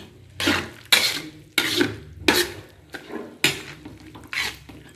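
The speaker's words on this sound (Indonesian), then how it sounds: "daun bawang yang sudah kita potong-potong. Dan kita aduk ini." Chopped spring onions are stirred in a pan with a utensil, giving a series of about seven rhythmic scraping sweeps with light sizzle between them, close and clear with no speech.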